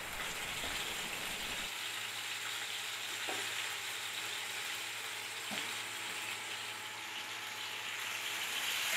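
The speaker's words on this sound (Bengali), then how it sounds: "কড়াইতে পেঁয়াজ কুচি দিয়ে সেটাকে একটু ভেজে নেওয়া হবে" Chopped onion frying in a wok (kadai), with a steady, close, broad sizzle that runs throughout, and a few faint clicks of stirring.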